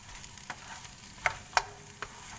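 Partly peeled luffa gourd stir-fries quietly in a pan with a soft, faint sizzle, broken by a few sharp clicks and scrapes of the utensil.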